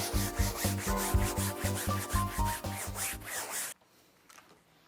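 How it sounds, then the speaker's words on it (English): A brush scrubs a fabric couch in rapid, rhythmic back-and-forth strokes, close and steady for about three and a half seconds before stopping abruptly into near quiet. "then you rub it in with a brush. Scrub."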